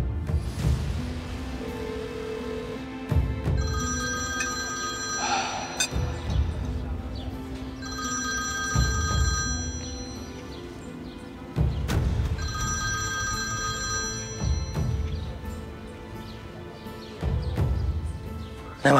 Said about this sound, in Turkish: O telefon açılacak Selim.